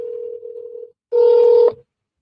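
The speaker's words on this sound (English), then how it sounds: "All right, let's call Jasmine" Telephone keypad tones dialed to place a call: a steady tone, a short pause, then a second, louder tone, all heard alone without any voices.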